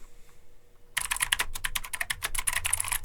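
Quiet room tone gives way to a burst of rapid typing on a Razer BlackWidow V3 mechanical keyboard, the clicky keystrokes dense and fairly close, with no talking.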